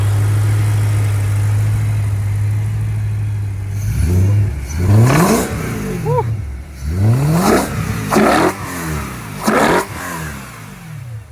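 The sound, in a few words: straight-piped BMW engine starting and revving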